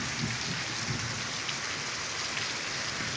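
Steady rain pours down in a continuous, dense hiss with no pauses, close and fairly loud throughout.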